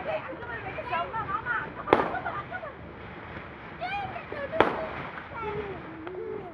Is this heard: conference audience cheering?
no